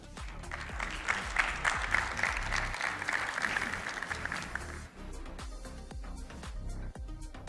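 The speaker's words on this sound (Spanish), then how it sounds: "Con un fuerte aplauso." An audience at a conference talk breaks into loud, sustained applause that fills the room for several seconds before thinning out to a few scattered claps.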